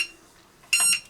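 A small fake UVC sanitizer box's timer goes off with a brief, loud electronic beep, sharp and high, after a near-silent stretch.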